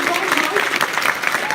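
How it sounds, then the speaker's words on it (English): Audience applause at a live business talk in London, a steady wash of clapping running the whole moment with voices mixed in underneath. "let's clap it up for everybody"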